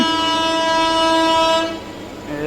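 A MEMU passenger train on the Vijayawada–Rajahmundry line sounds a loud, sustained horn for about a second and a half. A steady rumble of the passing train continues close by afterward.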